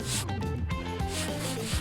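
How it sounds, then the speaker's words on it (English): Black fondant rubbed firmly down onto a cake, a close, continuous scraping rub in short strokes, fairly quiet, with no speech. "We need to give it a firm rub down."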